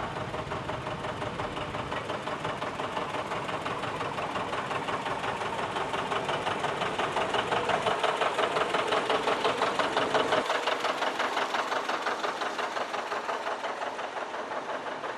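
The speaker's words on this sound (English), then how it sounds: "This is a 1959 John Deere 730 diesel owned by Matt Howell from Gothenburg." A 1959 John Deere 730 diesel tractor runs at a parade, its engine chugging in a steady, rapid knocking rhythm that grows a little louder mid-clip, then continues more thinly after a shift near ten seconds.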